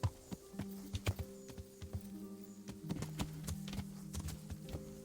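Horse hooves clip-clop in an uneven walking rhythm in the video game Kingdom Come: Deliverance, close and clear, with a few sharper hits over a low steady hum.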